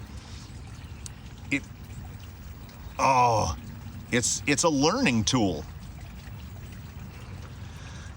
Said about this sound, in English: I'm just squeezing the water out of that tire.